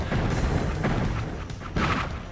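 Turret gunfire in the shooter game The Wayfarer rumbles in dense, heavy bursts, booming explosions and artillery-like blasts overlapping in a continuous loud barrage with a couple of sharper surges.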